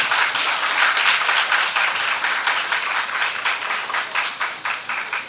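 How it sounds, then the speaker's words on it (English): A crowd applauds continuously, dense clapping from many hands that stays loud throughout. "Great applause."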